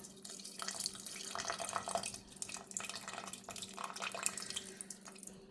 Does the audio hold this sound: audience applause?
no